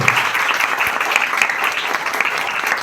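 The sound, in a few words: loud applause for Hiralal Gupta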